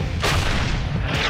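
A tank cannon fires armor-piercing shells at a tank about 500 metres away, a single loud, close boom that hits suddenly and leaves a heavy rumbling tail.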